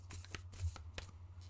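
Tarot cards shuffled by hand in a series of quick riffling bursts, crisp and close, with a low steady hum underneath.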